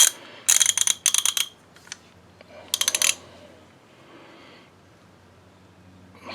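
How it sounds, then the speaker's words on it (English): Ratcheting wrench turning an old bolt on a Cub Cadet garden pulling tractor during a nose-piece swap, heard as several quick bursts of metallic clicking, close and fairly loud, with pauses between strokes and a faint hum underneath. "Did I grab the wrong size wrench?"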